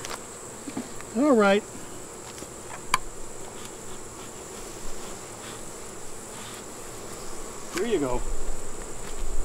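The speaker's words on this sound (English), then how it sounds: "We have a lot of angry bees on me right now" Angry honey bees buzz constantly close by during a hive inspection, a thick insect drone, while someone speaks briefly over it.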